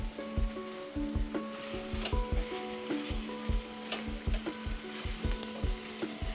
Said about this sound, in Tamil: இதையே நல்லா எண்ணெயில் லைட்டாக வதக்கி விட்டுருங்க